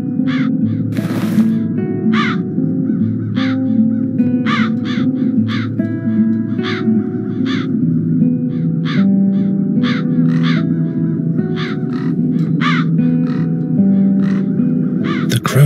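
Crows in the video game The Dark Eye: Chains of Satinav caw repeatedly in short, evenly spaced calls over a steady bed of game music, loud and close throughout.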